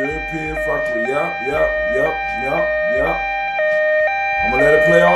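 Loud European two-tone alarm effect, its high and low tones switching back and forth repeatedly, with a voice speaking on top throughout.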